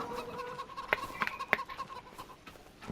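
Chickens clucking on a farm in the Farm Sim 25 video game, with several short, sharp clucks and bursts over a steady low background hum, at moderate distance.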